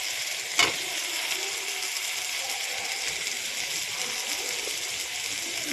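Egg curry with fried potatoes being stirred in a pan, giving a steady broadband sizzle with a sharp scrape or clink near the start; no talk.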